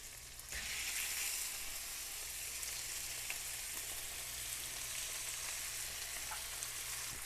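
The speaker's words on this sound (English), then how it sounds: "And that's a nice sizzle." Cubed chicken sizzling in a hot skillet, seasoned with salt and pepper, a sudden loud onset of steady, bright frying hiss that carries on evenly and close up with a few small pops, no voices.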